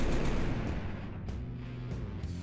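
Thud gun artillery fire in the Final Liberation Warhammer Epic 40k game rolls out as heavy, muffled booms, one loud blast up front and then softer rumbling impacts.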